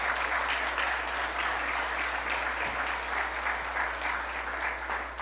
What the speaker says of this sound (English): the parents deserve a big round of applause